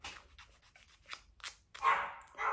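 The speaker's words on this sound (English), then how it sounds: "My dog is barking." A dog barking indoors at home: a few short, fairly faint bursts, with quiet rustling sounds between them.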